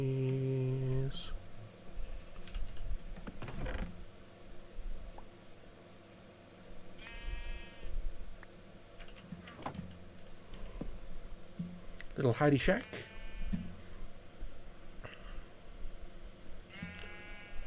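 Sheep in Minecraft bleat loudly several times in short bursts, mixed with keyboard typing and clicking while a person talks.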